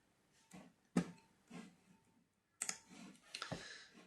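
Mouse clicks while sending an email on a computer, a few short sharp clicks spaced apart and close up, fairly quiet, with no talking.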